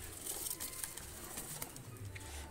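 A pair of pigeons coos softly in a loft, low murmuring calls repeating through the clip over faint background noise, with no one talking.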